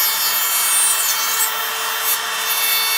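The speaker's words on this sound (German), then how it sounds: "Und ich verwende hier die kleine Makita Oberfräse mit der vergrößerten Grundplatte" A small Makita wood router with an enlarged base plate cuts dovetails with a straight 10 mm bit, giving a loud, continuous high-pitched whine and hiss that runs steadily throughout with no talking.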